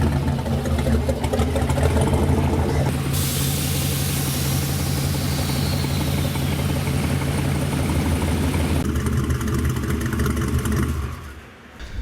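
A 1960 Chevrolet Biscayne custom car's engine runs steadily with a low, rumbling idle tone, close and continuous, shifting character midway before dropping off at the end.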